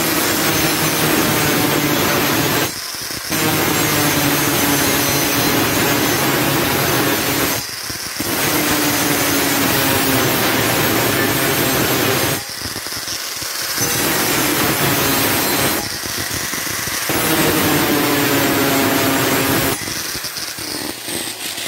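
An angle grinder grinds a motorcycle brake disc flat, a loud continuous metallic whine and rasp that runs steadily for long stretches, broken by four brief pauses where the tool eases off before biting in again.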